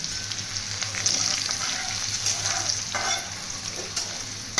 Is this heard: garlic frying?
yes